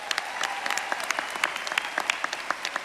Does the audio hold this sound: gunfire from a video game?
no